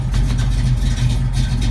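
A 1969 Chevrolet Camaro with 97,000 miles idles at about 800 RPM, a loud, close, steady low rumble with an even pulsing beat and no talk.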